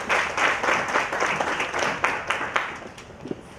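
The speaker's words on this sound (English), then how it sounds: "A round of applause." An audience at a national voter registration campaign launch for tertiary institutions applauds steadily, dense clapping holding loud before thinning out toward the end, with no talk over it.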